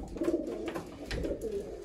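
Racing pigeons coo close by in a loft, low, throaty, repeating murmurs, several soft calls overlapping inside the enclosed space.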